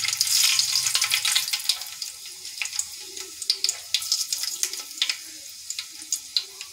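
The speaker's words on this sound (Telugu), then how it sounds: "ఆయిల్ కాగాక ఇప్పుడు అందులోకి 1/2 స్పూన్ ఆవాలు, 1/2 స్పూన్ జీలకర్ర, 1/2 స్పూన్ మెంతులు వేస్తున్నాను" Half spoons of mustard, cumin and fenugreek seeds drop into hot oil for a prawn and brinjal curry, starting with a loud hiss that settles into a quieter sizzle dotted with many sharp, crackling pops.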